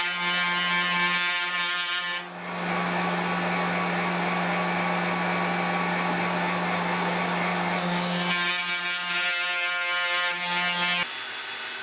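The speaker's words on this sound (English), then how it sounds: "I chamfered the edges on the router table" Router on a router table chamfering the edges of a homemade saw track, a loud, steady high-pitched whine that runs nearly the whole time, dipping briefly as the cut shifts and staying close and continuous.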